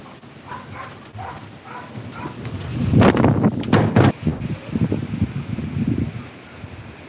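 Strong gusts from Typhoon Uwan surge through trees, rising into a loud rush of rustling leaves and buffeting for a few seconds before easing back.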